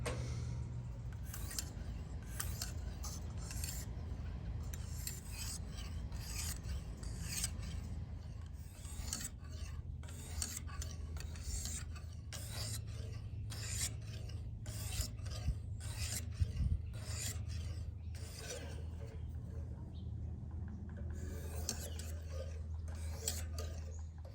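A stainless steel knife sharpened on a sharpening stone, producing a continuous close rasping grind in rhythmic back-and-forth strokes with brief pauses, steady and fairly quiet.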